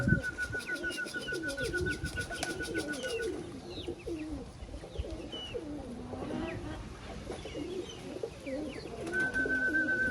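Pigeons coo steadily in low, throaty burbles, several birds overlapping throughout, with a faint high electronic tone in the background.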